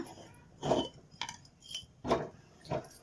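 Metal pan set down and shifted on a stove in a home kitchen before frying spices for a mushroom egg curry, several light clinks and clanks spaced a second or so apart, close and fairly quiet.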